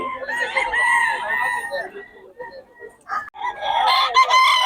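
Roosters crow loudly nearby, one after another, with a few clucks from chickens between the calls.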